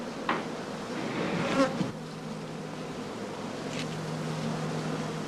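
Honey bees buzz and hum around heather straw skeps at a heathland apiary, a steady close droning swarm with a louder pass near the start, without any voices.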